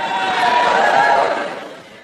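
A comedy show audience cheers and chatters loudly for about two seconds, a dense crowd roar that swells and then fades away.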